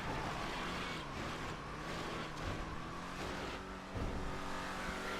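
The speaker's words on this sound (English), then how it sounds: "As you can hear, the engine actually spools up a lot" A car engine in GTA 5 Online drones and revs steadily at launch, a dense, sustained roar with slight surges in pitch, sounding alone throughout.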